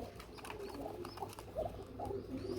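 Soft, low pigeon cooing repeats a few times, faint and somewhat distant, against a quiet background hum.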